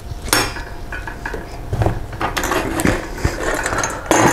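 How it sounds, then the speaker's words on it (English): A race kart slick's bead being broken from its rim, with clanking metal-on-metal knocks, scrapes and ratcheting tool noises in irregular bursts close by, louder toward the end. "Next, break the tire from its seal of the rim."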